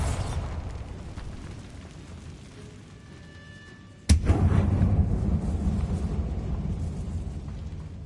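A Bombarda blast spell in a dark catacomb video game erupts as a single sudden loud boom midway, followed by a sustained rumbling roar that slowly fades, after a quieter stretch of low ambient rumble.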